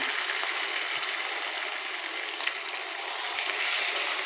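Red chili paste with ginger and garlic sizzling steadily in hot oil, a continuous bright hiss with faint stirring clicks, close and even throughout.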